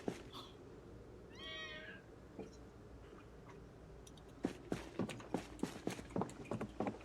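A video game cat meows once at the player's feet, a clear drawn-out meow early on, followed by a run of rhythmic clip-clop footstep-like taps near the end, with no speech.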